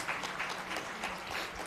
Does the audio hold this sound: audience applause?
yes